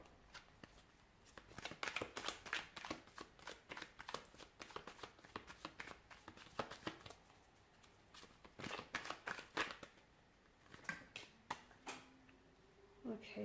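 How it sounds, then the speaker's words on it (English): Tarot cards being shuffled in repeated quick riffling bursts, close and fairly soft, with brief pauses between rounds of shuffling. "Give the cards a shuffle."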